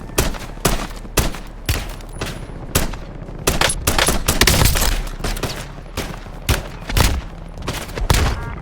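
Gunfire in Call of Duty Warzone crackles in loud repeated bursts and single shots spread across the whole stretch, close and sharp, with rapid automatic volleys between brief pauses.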